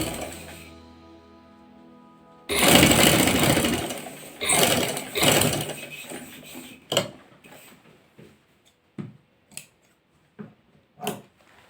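A sewing machine stitches a salwar waistband in a few loud bursts, followed by scattered clicks and handling knocks; no talking.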